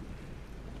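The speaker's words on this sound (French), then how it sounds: "il pleut comme en Amazonie. Là, je suis bien. Ah, il y a la tempête" Rain and a storm in the Fortnite video game, a brief, faint, steady wash of rainfall with low rumbling underneath and no talk.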